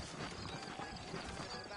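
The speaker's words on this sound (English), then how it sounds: "I got the horses saddled up and ready out front." Horse hooves clip-clop at a steady walking pace over a busy background of ambient noise, quiet and slightly distant, in the video game Red Dead Redemption.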